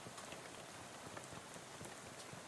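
Steady rain pattering on surfaces in the Shadows Over Loathing video game, a dense continuous hiss of drops with no voices.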